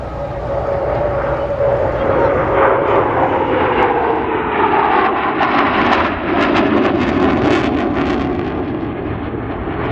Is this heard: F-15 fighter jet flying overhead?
yes